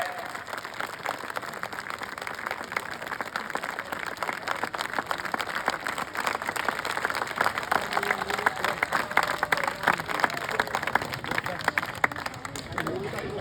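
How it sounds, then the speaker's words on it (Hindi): Dense crowd applause at an outdoor Pola festival rally in Ahiwara, Chhattisgarh, a steady wash of many hands clapping that runs the whole length and swells slightly toward the end, with crowd murmur mixed in. "ताली अभी भी कमजोर है"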